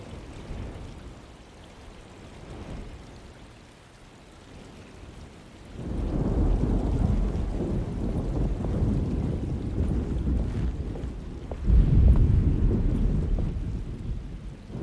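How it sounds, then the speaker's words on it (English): Rain falls in a thunderstorm in the game Alone in the Dark as a broad, rushing wash that swells louder midway, with a deep rumble near the end and no speech. "Just keeping an eye out for the storm."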